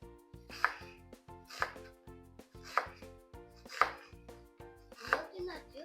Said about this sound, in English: I'm gonna cut my onion like this.